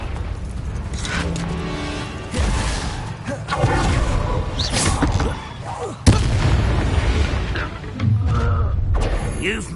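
A Confringo spell blasts off in Hogwarts Legacy amid a chaotic wizard duel, with loud booming bursts and whooshes landing around the two- and six-second marks, and game voices shouting over the combat.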